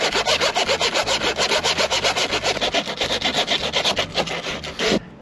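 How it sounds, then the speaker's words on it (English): Sandpaper rubs hard and steadily over a 300 series stainless steel boarding ladder for an inflatable boat, a loud, even back-and-forth scraping with regular strokes that runs continuously and stops abruptly near the end. "I need to buff that really good with some sandpaper"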